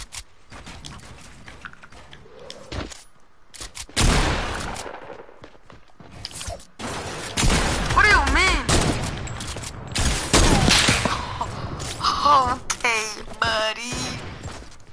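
Gunfire in a video game played with friends, scattered shots and bursts spread across the clip, mixed with whistling effects and other game sounds.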